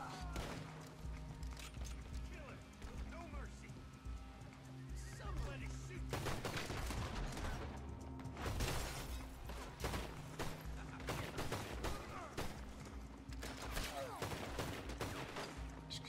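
Semi-automatic pistol gunfire in Red Dead Redemption 2, a run of sharp shots in close succession over busy game music and ambience, with a voice talking alongside.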